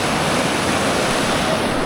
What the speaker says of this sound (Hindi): ये जो अभी पानी है काफ़ी ठंड है यार। प्रवाह तो आप देख ही रहे हो कितनी तेज़ है।